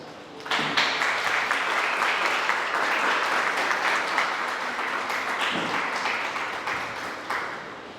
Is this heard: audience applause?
yes